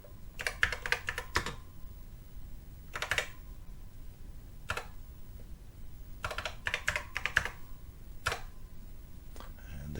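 Bursts of key presses on a Texas Instruments TI-99/4A home computer keyboard, clustered runs of close, clicky taps separated by short pauses, with a faint low background hum and no one talking.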